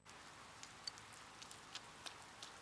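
Rain falls in the Persona 4 Golden video game, a faint steady hiss of rainfall with scattered light droplet ticks, alone and quiet.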